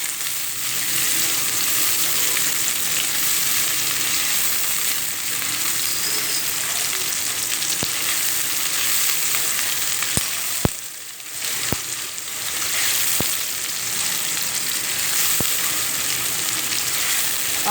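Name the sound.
chopped onions frying until brown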